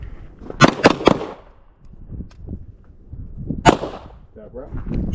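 Pistol shots at a shooting training class: three quick, sharp reports close together, then a single shot a few seconds later, loud and near, over low background rustle and murmur.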